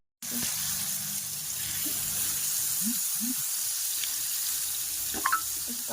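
Large eggplant slices frying in hot oil on a tawa give a steady, even sizzle throughout, with a few faint clinks and brief sounds of handling near the end.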